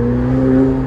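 McLaren 720S Spider engine holding a loud, steady hum with a low droning tone, heard close from inside the open-top car, no voices.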